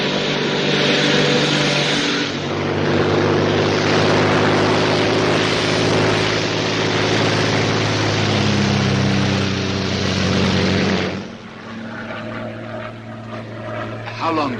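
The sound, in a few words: Royal Air Force plane engine in flight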